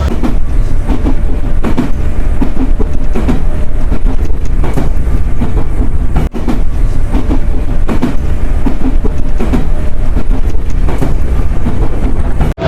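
A local passenger train running from Kerala towards Delhi rolls steadily along the rails, a loud continuous rumble with rhythmic clickety-clack heard from inside the carriage, with some wind buffeting the microphone throughout.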